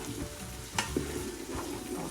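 Potato soup ingredients being stirred in a Ninja Foodi pot, a close, steady sizzling hiss with a couple of brief scrapes and knocks from the utensil and no speech.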